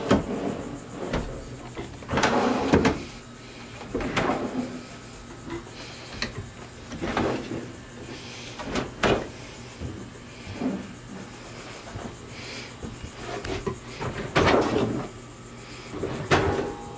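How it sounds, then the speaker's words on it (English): A small drawer set below the kick panel in a 6x12 enclosed camper trailer slides open and shut several times, each pass a short wooden rumble and knock, close and clear with no talking. "I've actually made a small drawer below the"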